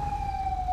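A manual police car siren from the video game GTA 5 holds a single steady, fairly loud tone for under a second, with a low rumble underneath and no voices.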